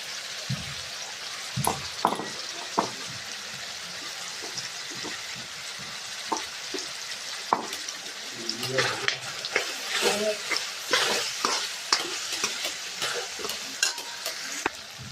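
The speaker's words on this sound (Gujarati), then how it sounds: "હવે આમાં આપણે ડુંગળી અને ટામેટા સરસ રીતે સાતળી ગયા છે" Chopped onions and tomatoes sauté in a pan for pav bhaji, with a steady close sizzle and frequent sharp scrapes and clacks of a spatula stirring at an uneven rhythm.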